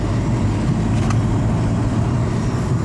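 A car cruising on the road toward the Jerez racetrack, a steady, fairly loud interior rumble of engine and tyres that stays even throughout, with no talking.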